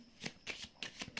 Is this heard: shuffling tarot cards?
yes